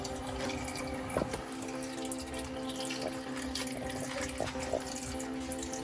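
Milky water drains and splashes steadily out of a 1969 Ford F100 engine, a continuous close trickling and running flow with a few brief knocks.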